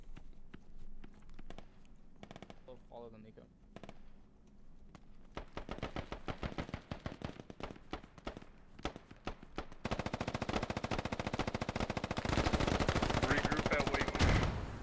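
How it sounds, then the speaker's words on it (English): Heavy machine gun fire in a 40 vs 40 squad-based combat shooter game, rapid dense bursts building from scattered shots to sustained loud automatic fire, with brief voice fragments early on. "we're taking major fire in our position"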